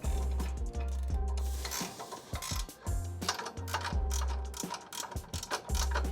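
Ratchet wrench clicking in rapid bursts while tightening 17 mm nuts onto the bottom of bolts for Land Rover Discovery 1 rear springs and shock mounts, loud and close, with short pauses between strokes.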